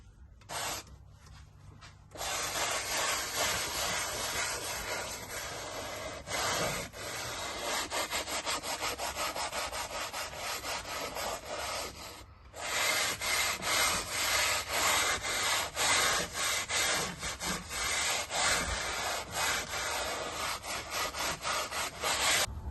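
A visor is rubbed clean with a chemical cleaner, close scrubbing strokes in a fast rasping rhythm, continuous and fairly loud with a couple of short pauses, no talk.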